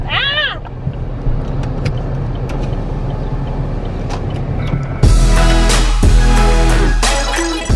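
Car driving along Route 66 in Tulsa, with a constant low road rumble and interior hum throughout, a brief warbling tone near the start, and a louder, brighter stretch of road and wind noise in the second half.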